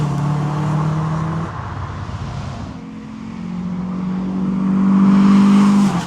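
A 1990s car engine pulls under load on a road test, a close, loud drone that eases off mid-way and then climbs again as revs build, with no one talking.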